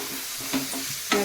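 Ginger garlic paste frying in hot oil, a steady close hiss broken by two quick stirring scrapes in a brief moment.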